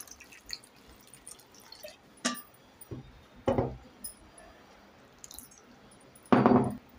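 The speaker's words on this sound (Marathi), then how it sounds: "ह्याच्यामध्ये सुद्धा आपण बटाटे बुडतील एवढं पाणी घालूया" Water is poured from a vessel into a pressure cooker holding soaked vari rice and potatoes, with a few short splashing bursts, drips and light metal clinks, close and otherwise quiet.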